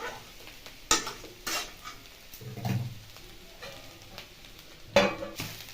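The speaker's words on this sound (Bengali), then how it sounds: "চাপা খুলে আবার একবার নাড়াচাড়া করে নেব।" A spoon scrapes and stirs grated carrots frying in a pan for carrot halwa, giving soft sizzling with a few sharp clinks of metal on the pan.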